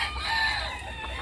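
A fighting rooster crows in a short, fairly loud, strained call close by, with a faint farmyard hum behind it.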